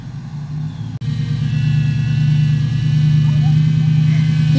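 A truck stuck in mud runs its engine, a loud close steady rev with a rising drone after a brief cut, while a voice talks over it.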